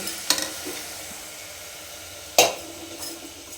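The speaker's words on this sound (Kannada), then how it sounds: "ಅದನ್ನು ಕೂಡ ಚೆನ್ನಾಗಿ ಒಂದು ಫೈವ್ ಮಿನಿಟ್ಸೇನೆ ಚೆನ್ನಾಗಿ ಫ್ರೈ ಮಾಡ್ಕೊಳ್ಳಿ" Food fries quietly in a pan with a low, steady sizzle, punctuated by two sharp clinks of a utensil against the metal and a few softer scrapes of stirring.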